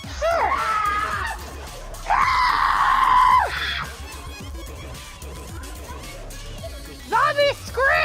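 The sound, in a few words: person imitating a zombie scream at a zombie walk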